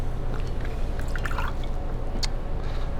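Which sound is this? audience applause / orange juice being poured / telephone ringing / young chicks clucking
orange juice being poured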